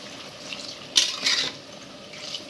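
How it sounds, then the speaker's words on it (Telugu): Water splashes into a pressure cooker of mutton in two short pours, close and brief, over a quiet background. "కొంచెం వాటర్ యాడ్ చేసుకొని"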